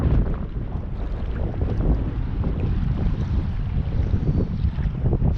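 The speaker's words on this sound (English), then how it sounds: "still pretty windy, but not quite as choppy on this side" Strong wind roars steadily across open water on a choppy morning out squid fishing, a dense continuous rush of buffeting and microphone wind noise with no voices.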